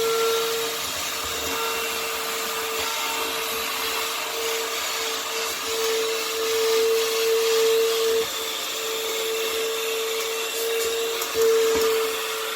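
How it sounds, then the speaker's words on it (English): An AFBEST handheld cyclonic vacuum runs steadily with a loud, even motor whine and airy rush as it sucks salt off a table, the tone holding throughout with slight fluctuations. "I want to see how easily the vacuum handles picking up that salt"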